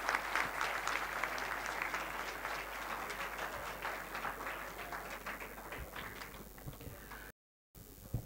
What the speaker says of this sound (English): A huge round of applause for Ms. Ritika Gupta, founder of Global Distribution Company and a proud alumni of Thapar